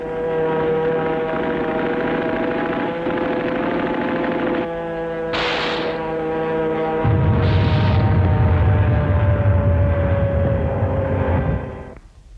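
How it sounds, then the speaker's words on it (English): Engines of WWII carrier planes over Japan and Okinawa drone loudly and continuously, with a deeper, heavier roar swelling in partway through before fading at the end. "Carrier planes of Admiral Spruance's Fifth Fleet hit the home islands of Japan and then softened up the target island of Okinawa"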